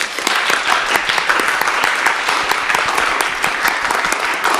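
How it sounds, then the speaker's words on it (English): An audience applauds a brave volunteer at a workshop, dense and loud continuous clapping from many hands, steady for several seconds without talk. "Will you all join me in a round of applause for our brave volunteer?"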